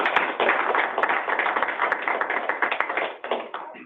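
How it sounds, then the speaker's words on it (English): Steady, dense applause from an audience closing an April 2018 CAST animal welfare presentation, many hands clapping together at an even loudness that thins slightly toward the end. "Let's give Dr. Croney a round of applause for the presentation."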